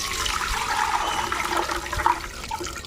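Fermented water from five- or six-day-old leftover rice being stirred and strained, a steady close sloshing, splashing flow of liquid running without pause for a few seconds.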